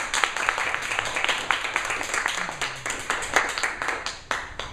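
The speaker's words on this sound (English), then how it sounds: "You see how long the applause was?" A group at a Saturday Toastmasters meeting gives a speaker sustained, dense applause, with many overlapping hand claps at an even, moderate level that carries on for several seconds without talking.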